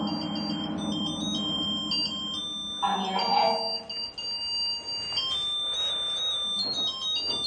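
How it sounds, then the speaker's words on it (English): A REM pod ghost-hunting device beeps with steady high electronic tones during a paranormal investigation, sounding under and between people talking nearby. "this one's actually beeping and the lights are playing along"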